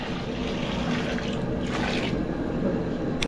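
Water poured from a container into a cooking pot for making wedding-style upma, a steady loud splashing and gurgling pour lasting several seconds, close by and without talk.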